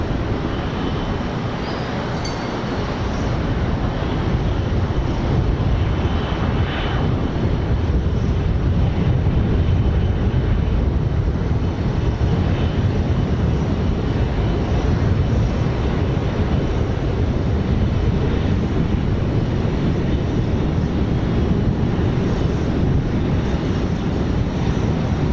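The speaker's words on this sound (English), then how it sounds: "Runway 25 right, clear for takeoff" RAF Airbus KC2 Voyager departing runway 25 right at Phoenix, heard as a loud, sustained broadband jet roar that holds steady across the whole take-off run, mixed with wind buffeting on the microphone.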